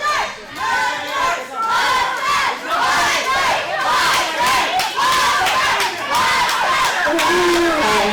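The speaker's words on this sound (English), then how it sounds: "Crowd chanting mustard at DeJohn." A wrestling crowd at a Rocket City Championship Wrestling show chants in unison at a wrestler, loud rhythmic shouted syllables repeating in waves across the whole stretch, with a few voices rising above the mass.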